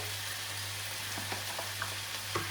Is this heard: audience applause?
no